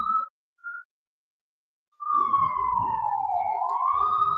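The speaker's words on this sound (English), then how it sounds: "Let me let this siren go by," After two short wails and a pause, a siren starts sweeping steadily, sliding down then rising again over faint background rumble.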